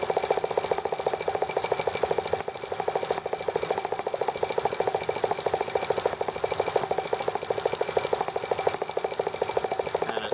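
A T-26 engine runs steadily just after starting, with a fast, even, rhythmic chugging and clatter held at a constant level throughout, with no voices.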